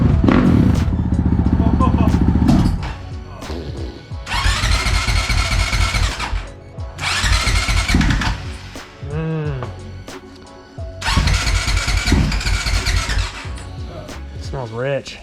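Honda CRF450RL dirt bike with a Yoshimura exhaust starting up and revving hard in repeated loud bursts with idle dips between, close by, with people talking over it.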